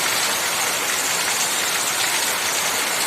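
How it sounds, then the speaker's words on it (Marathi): Heavy monsoon downpour after a hot, humid day, a dense steady roar of rain pouring down without a break, loud and close throughout. "बघा कसा मुसळधार पाऊस पडतोय"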